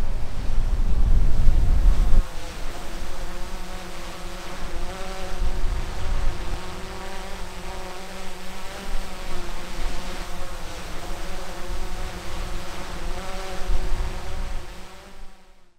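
A small drone flies outdoors in fine weather, giving a steady, droning buzz with a constant pitch that holds for the whole stretch after a louder, rumbling burst of wind or handling noise at the start. No one speaks.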